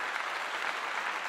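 Brief, fairly quiet applause at a Colorado post-game press session after a 2024 win over Arizona, a steady patter of clapping with no one speaking over it.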